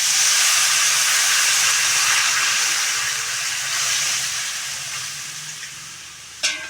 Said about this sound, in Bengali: এখন দিয়ে দেব পরিমাণ মতো এখানে জল